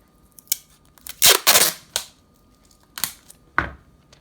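Masking tape pulled and pressed onto a foil balloon number, a scattering of sharp tearing and slapping crackles with quiet gaps, close by and without talk.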